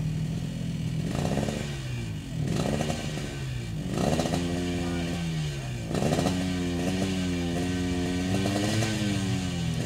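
A WS Dino Speed SCK Racing motorcycle engine at a 2022 racing event in Terengganu revs repeatedly, with about five rising and falling throttle bursts over a constant loud idle drone.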